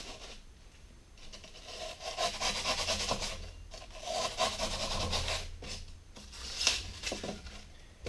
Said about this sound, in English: I'm literally plunge cutting by forcing the blade straight down in.